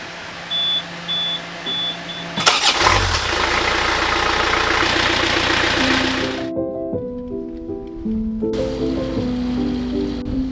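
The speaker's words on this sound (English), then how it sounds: "But the engine's overheating a bit." An overheating sailboat engine starts up partway through and runs with a steady mechanical rumble. A string of tonal electronic beeps follows, and scattered quiet voices can be heard.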